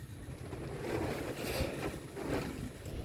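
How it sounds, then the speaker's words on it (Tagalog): Rain falls at a house construction site, with running water making a soft, steady wash that rises and falls gently at a low level. "Nag-uulan kasi. Ulan ng ulan."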